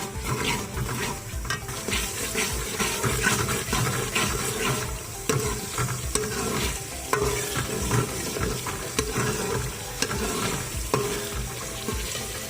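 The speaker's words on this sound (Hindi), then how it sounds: "इसमें हम शामिल करेंगे और इसको अच्छे से फ्राई करेंगे" Ginger garlic paste fries in a pan with a steady loud sizzle and continuous scraping of a spoon stirring it, no one speaking.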